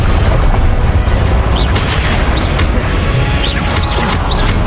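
Repeated fiery spell blasts and magical combat bursts from Hogwarts Legacy, a loud, dense barrage of booms and crackling impacts layered over continuous battle noise, with brief whooshing flares punctuating the din.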